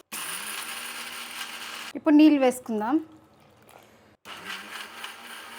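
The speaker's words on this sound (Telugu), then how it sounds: "నీళ్ళు వేయలేదండి, అట్నే మిక్సీ పట్టుకొని మళ్ళీ నీళ్ళు వేసుకుందాం" A mixer grinder whirs steadily grinding chutney without water, cuts off while someone speaks briefly, then starts grinding again.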